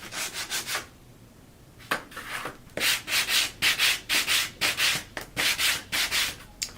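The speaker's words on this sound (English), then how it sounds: "The sandpaper is probably a little harsher grit than I want, but I like things heavily distressed" Coarse-grit sandpaper rubbed over a small wooden ornament to distress it, close rhythmic scrubbing strokes in two bursts separated by a short pause.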